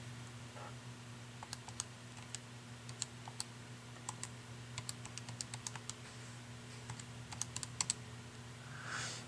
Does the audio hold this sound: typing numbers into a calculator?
yes